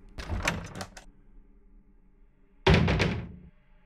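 A door shuts in the horror game Welcome to the Game 2, a muffled rattling thump followed after a pause by a louder heavy close, near and loud with no talking.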